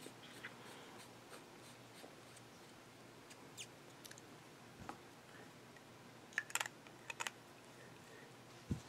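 Sailor 1911 fountain pen with a music nib writing on paper: faint, close scratching strokes in a quiet room, broken by a few sharper clicks and taps near the end.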